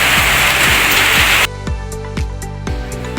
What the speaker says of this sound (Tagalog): Yan, umuulan na naman,